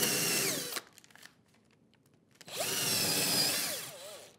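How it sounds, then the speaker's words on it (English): An electric drill bores into small wood pieces in two loud, whining bursts separated by a short quiet pause, close to the microphone. "I'm going to drill this one"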